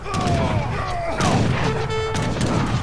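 Rapid bursts of gunfire and booming blasts overlap with whistling tones in Age of Empires 3, a busy, loud battle soundscape with no talking.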